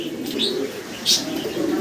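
Paik racer pigeons in a breeder's collection coo briefly at close range, with a couple of soft chirpy notes in a short burst.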